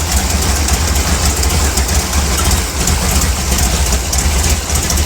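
A 1955 Chevy engine idling below 700 rpm after tuning, a loud, steady, close low rumble with an even throb and no change in pace.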